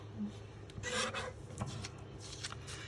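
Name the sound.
cutting strips of designer series paper into squares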